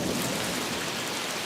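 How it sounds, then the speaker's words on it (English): Steady rain pours down with rumbling thunder in a storm, a dense continuous wash of noise holding even and loud throughout with no voices. "I don't think it's going to be raining anytime soon."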